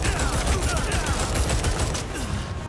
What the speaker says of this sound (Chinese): 我们可以在山洞里发现一挺机枪，有红外线激光探测仪一扫到我们直接就射爆